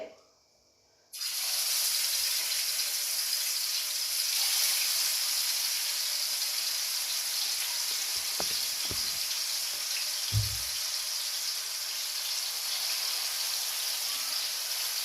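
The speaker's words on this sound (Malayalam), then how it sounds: "കുറച്ച് സമയമായി മീൻ ഇവിടെ പെരക്കി വെച്ചിട്ട് പൊരിച്ചിട്ടെടുക്കാം" Fish sizzles in hot oil in a pan for a Kerala-style biryani, a steady loud hiss that starts abruptly after a quiet moment and carries on with a few faint clinks, with no talking.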